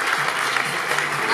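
A crowd at the Miss Excellence Pas-de-Calais 2022 beauty pageant claps steadily for a moment, a dense wash of applause at even volume.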